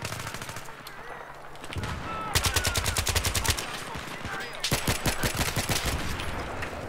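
Rapid automatic gunfire in the video game Battlefield 3 comes in two tight bursts of sharp cracks, loud and close, with a steady game backdrop between them and no talking.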